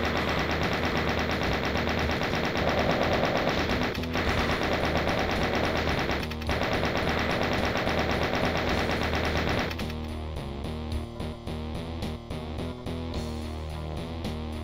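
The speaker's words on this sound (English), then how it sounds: "Just chain gun them down." Chain gun fire in the video game Doom 2 rattles in a rapid, continuous burst, loud and dense, then breaks into shorter stuttering shots near the end.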